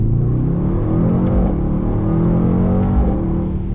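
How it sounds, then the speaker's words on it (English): A 2019 Mercedes-AMG GT 63 S four-door sedan accelerating, its engine a loud, close, continuous rumbling drone with rising and falling pitch and a couple of brief gear-shift breaks. "The sound, the feeling that you get when you're driving this car."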